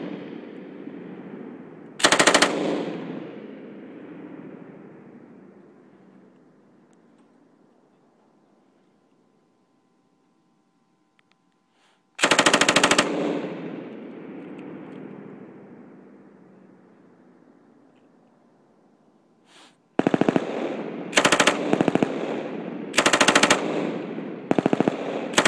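An M249 machine gun fires three loud bursts. Two long, heavy bursts ring out with echoing decay into open air, and a closing series of short, sharp bursts follows in quick succession.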